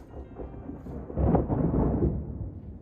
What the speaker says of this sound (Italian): ho iniziato a sentire qualche tuono.